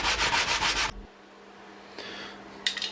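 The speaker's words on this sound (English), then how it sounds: "More sanding, more sanding." Sanding on a part from a Kawasaki ZX9R E2 motorcycle being restored, a steady close scratchy rubbing stroke that stops abruptly, followed by quiet and then a couple of shorter, fainter sanding passes.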